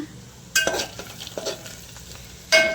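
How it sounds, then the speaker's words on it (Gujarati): Garlic and asafoetida frying in hot oil as a spoon stirs the pan, a soft steady sizzle broken by scraping stirs and a sharp clatter at the start and another near the end, with no talk. "જો લસણ થાય અને હિંગ નાખી દીધી અંદર. આ બધું મિક્સ કરી દઉં."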